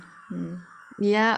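Loud, harsh crow caws, two bursts with a pause between, close by, with a brief murmur of a voice between them.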